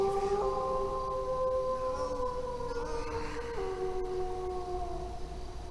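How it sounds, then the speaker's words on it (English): A dog howls in the Shivers video game, a long, steady, wavering tone held for several seconds with slight pitch drops, fairly loud and alone. "That was just a dog howling."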